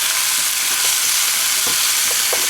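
Garlic and onions browning in a pan for a homemade Italian sauce give a loud, dense, continuous sizzle and frying hiss, close up and with no voices.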